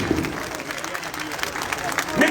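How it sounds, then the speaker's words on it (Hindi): Audience applause welcoming newly appointed state office bearers at a party ceremony, a steady dense clapping that fills the whole moment at moderate loudness. "उनका जोरदार तालियों से हम सब लोग स्वागत करेंगे"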